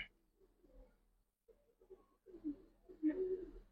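Silver Giribaz pigeons, an old breed, coo in soft, low murmuring bursts that swell toward the end, close by with faint background noise and no talk.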